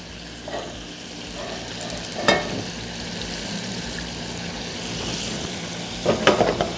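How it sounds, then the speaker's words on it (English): Onions frying in a hot pan, a steady soft sizzle with a few sharper crackles and stirring clatters, fairly close and quiet, with no talking. "I'm going to drop in my onions."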